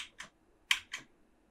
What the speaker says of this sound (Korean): 이 라이트 키를 누르면 한번 누를 때마다